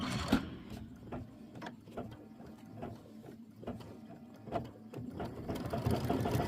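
A home embroidery machine stitches a Kimberbell heart-and-home door decor design in a 5x7 hoop, with rapid rhythmic needle clatter and mechanical whirring, steady and close without speech.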